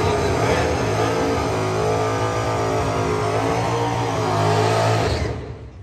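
A Hemi-powered Dodge Dart drag racing car in the Sox & Martin Hemi Challenge at the U.S. Nationals in Indianapolis, roaring loud and steady at full throttle before fading away sharply at the end.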